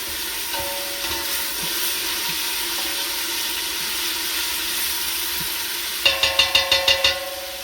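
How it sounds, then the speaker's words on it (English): Diced, pre-salted onions fry in a little vegetable oil in a pan, a soft steady sizzle running throughout, with a quick series of light scraping or clinking taps near the end. "So you start off by putting just a little bit of oil in your pan. I add the onions first to brown them a bit."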